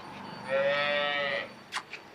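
A buffalo, with her young calf nearby on a village farm, gives one long, loud, low moo that holds steady for about a second, followed by two brief, sharp sounds.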